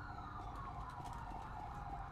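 Ambulance siren in GTA 5 roleplay, a faint wailing tone heard at a distance under game ambience, with no talk over it.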